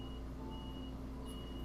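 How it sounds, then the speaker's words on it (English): A kitchen timer beeping for cooking steaks, a faint, evenly repeating high beep in the background over a steady low hum. "you might hear beeping in the background, and that means that I have steaks I have to cook"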